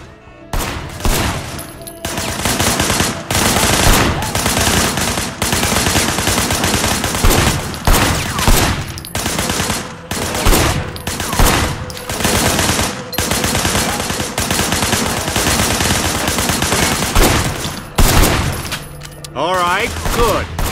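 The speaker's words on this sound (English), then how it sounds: "I want you to put some bullets in a few things." Sleeping Dogs video game gunfire, dense bursts of loud rapid shots and machine-gun fusillades repeating almost continuously with brief gaps between volleys.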